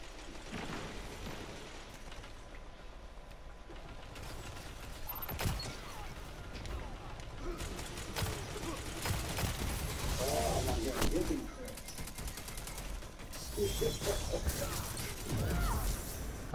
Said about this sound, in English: I'm using the energy hand cannon